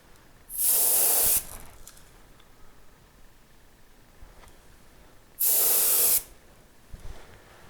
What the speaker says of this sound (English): I've got a little bit of nitro in my airbrush